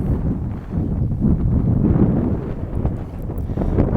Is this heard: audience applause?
no